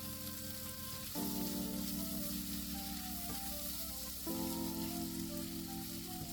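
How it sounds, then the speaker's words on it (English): Onions and chopped vegetables frying over medium heat in a pan, a steady close sizzle that swells louder twice as fresh ingredients hit the oil, with no talking. "need to be fried over medium heat for 3 to 4 minutes"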